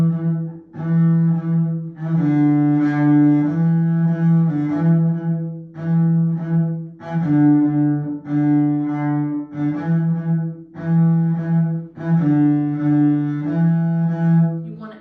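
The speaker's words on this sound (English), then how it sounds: "So this is the first rhythm we talked about with no chop." Bowed fiddle plays a rhythmic pattern for the tune Brown Sailed Boat without chop strokes, with steady sustained double-stop notes in pulsing phrases, close and clear, played alone.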